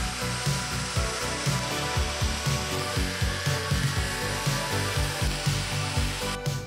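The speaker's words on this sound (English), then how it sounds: "cut all the pieces with a jigsaw" A jigsaw cuts plywood for leather molds, giving a close, loud buzzing rasp that pulses in quick repeated strokes as the blade moves through the wood, heard on its own.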